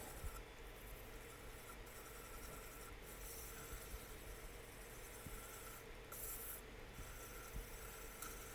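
Steady soft rasping and rubbing of an abrasive pad denibbing a finish on turned wood, continuous and close, with a few brief louder scuffs.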